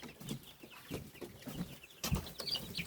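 Young chickens in a hoop coop cluck and chirp in short, scattered bursts, fairly close, with a louder flurry of clucking near the end.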